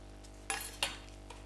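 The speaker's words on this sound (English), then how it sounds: "Normally I like cut with my knife. Okay, I cut with my knife." A knife cuts through baking paper to make a liner for a bamboo steamer, giving two short, sharp papery swipes close by against a low steady hum.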